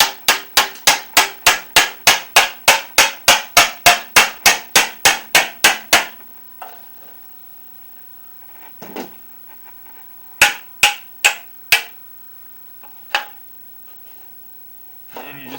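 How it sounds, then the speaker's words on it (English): Chisel struck with a hammer to pop a welded seat mount plate off a Mustang project car, a fast run of about twenty sharp metallic blows, then a pause, a few more hits, a scrape and a short final burst. "You just get yourself a chisel and you just come in and pop this guy off of there."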